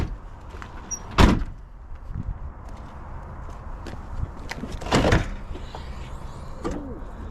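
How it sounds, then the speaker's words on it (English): A 2003 Ford Mustang Mach 1 having its trunk and hood popped open: two distinct latch thumps a few seconds apart, close and fairly sharp, amid quiet background movement and small clicks. "Pop the trunk and pop the hood."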